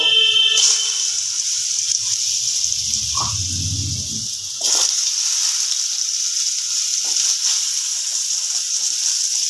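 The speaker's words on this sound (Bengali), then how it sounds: "তেলটা গরম হয়ে গেছে বন্ধুরা কড়ার মধ্যে দিয়ে দেব অল্প একটু হলুদ যাতে করে আলুটা দেওয়ার সাথে সাথে না ছিটকে আসে" Potatoes fry in hot oil in a wok with a little turmeric, a strong steady sizzle that drops briefly while a low rumbling bubble rises, then returns as a bright, even hiss close by.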